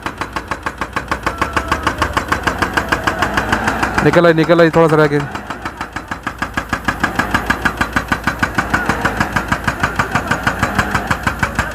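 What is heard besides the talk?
stuck car engine revving while people push it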